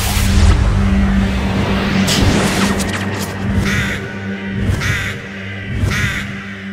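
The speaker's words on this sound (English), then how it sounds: "Those crows were attracted to the magical door" Crows cawing in the puzzle adventure game Witches' Legacy 4, several harsh caws repeating at intervals against a steady low ambient hum.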